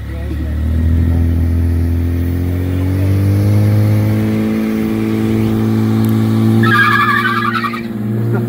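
A loud 2020 Corvette sports car engine revs and holds a steady growl close by, with a brief higher whine near the end and people talking over it.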